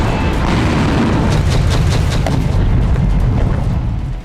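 Heavy bombing by a Russian KAB-500 bomb in Kharkiv, Ukraine, heard as a loud, sustained low rumbling roar with rolling booms. The roar fades slightly at the end.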